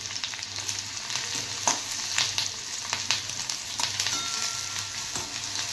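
Green chillies and chopped onion sizzling in very hot oil for a bottle gourd bhaji, a loud continuous crackle with bursts of spitting and stirring scrapes, close and with no voices.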